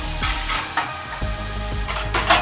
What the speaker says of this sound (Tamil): இஞ்சி பூண்டு பேஸ்ட்டு ஒரு 2 நிமிஷம் இந்த எண்ணெயில் வதங்க விடுங்க.